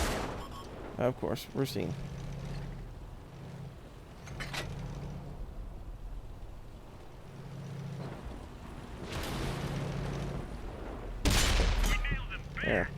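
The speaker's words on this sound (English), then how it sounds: "What is up there shooting at this Black Prince?" Tank cannon fire in the video game World of Tanks, played on Xbox One with a WZ-132 tank: several sharp booming shots and impacts scattered over a low engine drone, with someone talking over the action.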